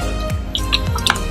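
Water drips and splashes close by while a raku-fired ceramic pot is rinsed, a quick run of small, bright droplet plinks over a steady wet background.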